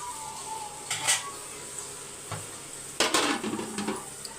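Chicken sautéing in a pan gives a quiet sizzle broken by a few stirring and scraping strokes against the cookware, with a louder burst of utensil clatter and sizzle toward the end.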